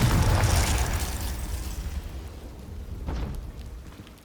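A Confringo fire spell bursts in Hogwarts Legacy, a loud broadband boom that decays over about two seconds into a low rumble, followed by a smaller crackling flare near the end.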